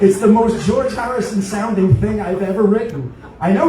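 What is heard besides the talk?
No everyday noise stands out behind the speech.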